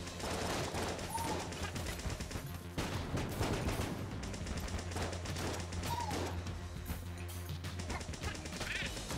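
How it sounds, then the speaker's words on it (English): Rapid, dense gunfire from the syringe gun in the video game Enter the Gungeon, continuous popping shots layered over busy game music and effects throughout. "Let's use the syringe gun."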